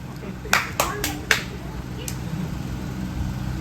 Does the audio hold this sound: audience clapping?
yes